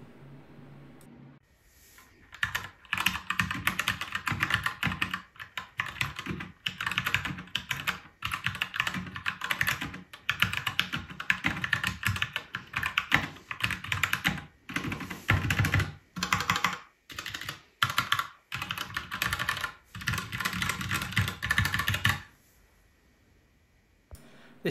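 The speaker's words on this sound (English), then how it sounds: "next up we're gonna have a sound test. Remember, this is the Gateron brown switch that I'm using." Typing on an Anne Pro 2 60% mechanical keyboard fitted with Gateron brown switches and standard black keycaps: a steady run of close, dense key clicks and thocks with brief pauses, lasting about twenty seconds before stopping.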